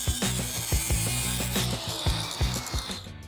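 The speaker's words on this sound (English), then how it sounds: "With our welds cut, our air hammer makes quick work of our brackets." A rapid, rhythmic pneumatic air hammer rattles steadily against metal, knocking cut welded brackets off a junkyard Jeep axle, close and loud, with a constant hiss of air behind it.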